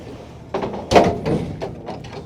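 A transport trailer door is pulled shut in a few clunks and bangs, one louder impact in the middle, followed by lighter knocks and some faint background voices.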